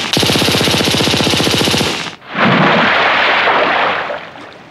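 A burst of rapid machine-gun fire in a German audio drama, a dense rattling volley lasting about two seconds, then a brief pause and a roaring splash-like wash that fades out. No voices.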